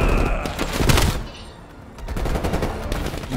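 Bursts of rapid gunfire from the video game Call of Duty Cold War, loud and close, dipping briefly at the midpoint before another dense burst picks up.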